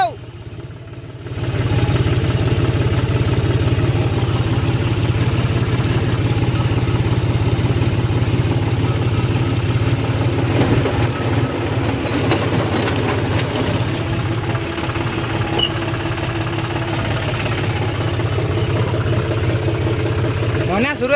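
A large farm tractor idles nearby, its engine a steady, loud, low rumble that runs unbroken for about twenty seconds.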